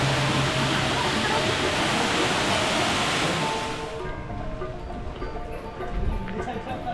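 Kato Lampo Waterfall in Gianyar, Bali, roars as a steady, loud broadband rush of falling water, then drops slightly in level after about four seconds while the continuous wash goes on, with no talk over it.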